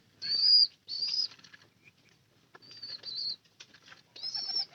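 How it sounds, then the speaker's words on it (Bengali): A pigeon released from a loft flaps its wings in several quick bursts with short pauses between them, close and fairly faint, with a few light chirps mixed in. "ওই কবুতরটা কিন্তু ছেড়ে দেওয়া হয়েছে।"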